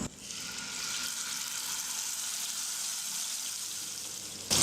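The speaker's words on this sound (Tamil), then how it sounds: "எண்ணெய் வந்து நல்லா சூடேறினதுக்கப்புறமா நம்ம எடுத்து வச்சுருக்கிற சிக்கனை இப்போ நம்ம வச்சிடலாம்." Tandoori chicken pieces fry in hot oil in a kadai with a steady, close, even sizzle that holds for several seconds. A brief louder bump comes at the very end, with no voices.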